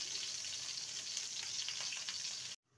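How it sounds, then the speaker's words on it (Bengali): Eggplant pieces fry in a hot pan, browning on each side, as a continuous bright sizzle of oil hisses until it cuts off abruptly near the end. "বেগুনগুলোকে এপিট ওপিট লাল করে ভেজে নেব।"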